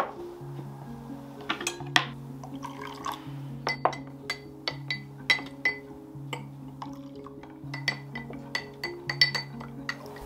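A spoon clinks repeatedly against a glass while dissolving a tablespoon of turmeric in water, bright sharp taps in an irregular rhythm over a faint steady hum, with a little liquid swirling.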